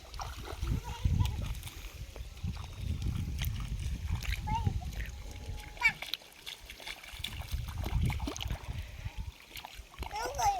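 Irrigation water splashing and sloshing through a channel in a farm field, faint and uneven, mostly under casual talk and a voice nearby.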